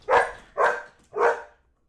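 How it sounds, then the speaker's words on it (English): Dogs barking close by, three loud separate barks evenly spaced over about a second and a half, with a quiet pause after and no talking. "Oh, the dogs."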